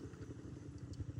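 An MMC motorcycle engine rumbles steadily up close with a throbbing low pulse and light mechanical clatter, running on its own with no talk over it.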